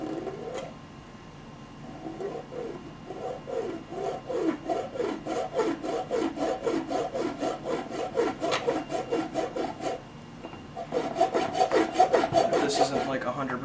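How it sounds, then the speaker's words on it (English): A hand saw cuts an angled notch into wood with steady back-and-forth strokes, a brief pause, then a faster and louder run of rasping strokes. The sound is close and heard alone. "You just want to get like a little angled cut in on one edge"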